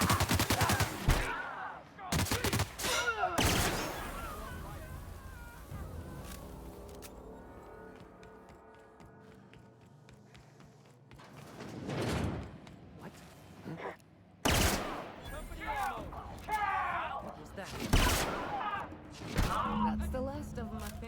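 Gunfire rattles through a firefight in The Outer Worlds. Loud bursts of automatic fire and single shots crack in clusters, with quieter lulls between them.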